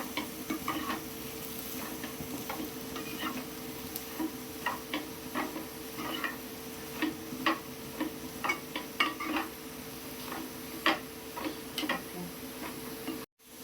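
Homemade wheat noodles being stirred and tossed with vegetables in a pan, a steady bed of soft sizzling under irregular clicks and scrapes of the utensil, fairly close, with no talk.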